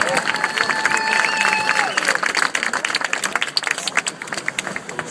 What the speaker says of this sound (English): The big round of applause